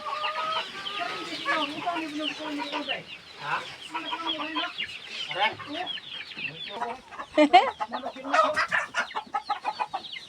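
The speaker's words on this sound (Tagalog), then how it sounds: "cute ng mga manok ni tatay" Several chickens cluck and chatter close by in a busy, overlapping flock, with a few sharper squawks toward the end.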